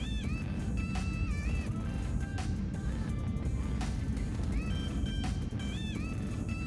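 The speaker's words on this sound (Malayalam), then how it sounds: "കൊച്ചിയിൽ നിന്ന് വിയറ്റ്നാമിലെ ഹോച്ചിമിൻ സിറ്റിയിലേക്കുള്ള ഫ്ലൈറ്റിലാണ് ഞങ്ങളിപ്പോൾ ഉള്ളത്." Steady, loud engine roar fills a VietJet Air cabin in flight from Kochi to Ho Chi Minh City, with faint rising and falling electronic tones and occasional clicks over the drone.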